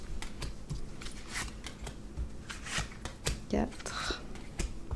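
Tarot cards are laid out one by one on a table in a quiet room, giving soft repeated snaps and slides interspersed with light taps and rustles, a voice speaking in between.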